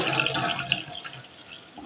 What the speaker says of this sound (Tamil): இப்போ ஒரு பவுலில் இந்த தயிர் சேர்த்து நம்ம தண்ணியை ஆட் பண்ணி கலக்கி விட்டுடலாம்